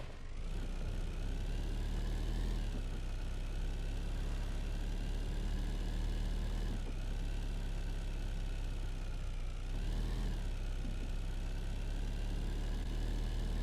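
A car engine idles in Car Dealer Simulator with a puttery, raspy exhaust note, steady and close throughout with slight swells in the rumble and no talking.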